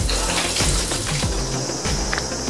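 Shower water runs in a steady, close hiss of spray and splashing, with no voices.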